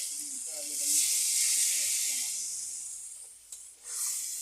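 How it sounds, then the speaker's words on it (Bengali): Water poured into a hot pan of spiced potatoes gives a strong steamy hiss that swells, holds for a few seconds, then fades, with a brief clatter and a fresh burst of sizzle near the end; a few faint voiced sounds sit underneath. "এবার আমি জল দিয়ে দিচ্ছি"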